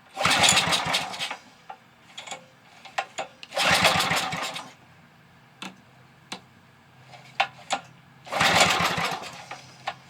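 A scrapyard 5 horsepower Briggs engine on full choke, primed with fuel poured in because the tank is empty, gives three short bursts of sputtering cranking with scattered clicks and ticks in between.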